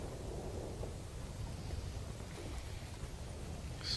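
Steady wind buffets the microphone in a low, rushing roar, constant and fairly faint, with no voices.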